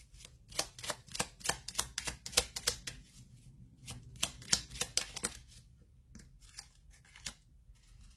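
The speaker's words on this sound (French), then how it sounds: "On va tirer une carte pour voir qu'est-ce que cette personne souhaite vous dire." Tarot cards being shuffled and drawn, a long series of crisp, rapid papery slaps and flicks in uneven clusters, close and quiet with no talking.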